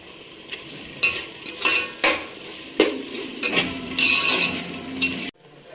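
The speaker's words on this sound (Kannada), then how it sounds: "2 spoons of ginger garlic paste ಹಾಕ್ತಾ ಇದ್ದೀನಿ. ಇದು ನೀಟಾಗಿ ಫ್ರೈ ಆಗಬೇಕು." Ginger garlic paste fries in a pan for mushroom biryani, with a spoon scraping and clanking against the metal in repeated strokes over a soft underlying sizzle, ending abruptly.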